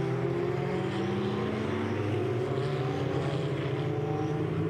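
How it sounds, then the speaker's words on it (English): Steady, loud engine drone from Ferrari 488 Evo race cars climbing a hill at Road Atlanta, a continuous layered roar with shifting tones, no voices. "there we can hear the 488 Evo car power plant propel the cars up the hill"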